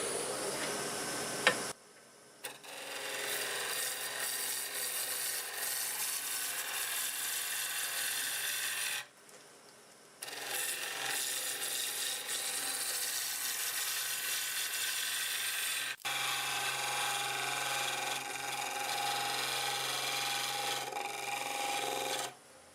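A 5/8 bowl gouge cuts a spinning segmented wooden star bowl on a lathe, smoothing a glue joint. A loud, steady, close scraping hiss runs in long passes, broken by brief pauses where the tool lifts off.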